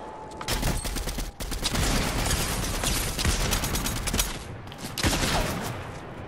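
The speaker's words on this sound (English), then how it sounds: "I was shooting that one." Rapid video-game gunfire, dense bursts of close, sharp shots rattling in quick volleys with brief pauses between them.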